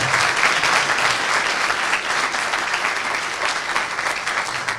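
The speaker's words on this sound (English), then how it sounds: "I think we owe all of these kids a rousing round of applause." An audience at a Rotary youth volunteer breakfast gives a sustained round of applause, dense and even clapping from a sizable crowd that carries steadily for several seconds.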